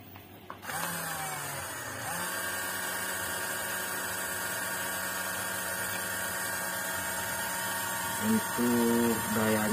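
A modified 21-volt cordless lawn mower's electric motor whirs up after a click, then holds a steady, fairly quiet whine with a brief rise near the end, running with no load.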